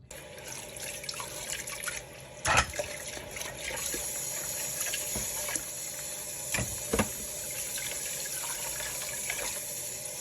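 Cold tap water runs steadily into a kitchen sink while red bream is rinsed under it, a faint continuous splash broken by a few sharper knocks and clatters.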